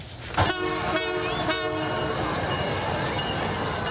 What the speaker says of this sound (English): The schedule is now out for the CPKC holiday train.